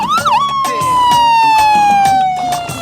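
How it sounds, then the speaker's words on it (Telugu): An ambulance siren wails loud and close with a sustained, slowly falling tone, while overlapping voices and shouts sound over it. "అంబులెన్స్ వచ్చేసిందయ్యా"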